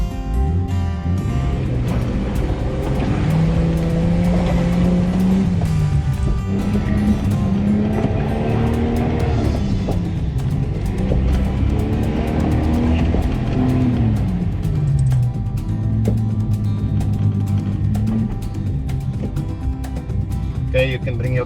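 Off-road truck engine revving repeatedly as it struggles through sloppy mud, pitch climbing and falling with each push, loud and close with a voice talking over it.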